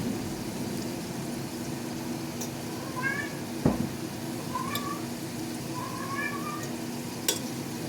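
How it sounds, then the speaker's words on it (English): A cat in heat meows repeatedly in a kitchen during cooking, several short rising cries spaced a second or so apart, moderately near, over a faint background hiss with a sharp knock partway through. "It won't stop meowing."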